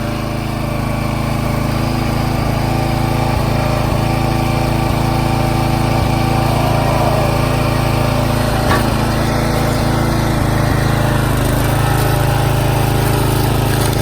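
A firewood log splitter's engine runs steadily and loud throughout, a constant small-engine drone with no talk over it.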